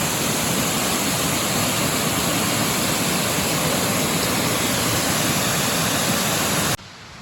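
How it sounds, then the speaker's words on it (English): Walkmill Waterfall rushes in a loud, steady broadband roar of falling water, continuous and close, then cuts off abruptly near the end. "This is the top part of the waterfall."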